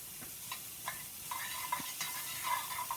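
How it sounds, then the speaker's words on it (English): Shallots and garlic sizzle in butter in a pan, a steady close crackle and spit broken by light scraping and stirring sounds, with no talking. "These are starting to sizzle up real nice, getting a little bit of color on."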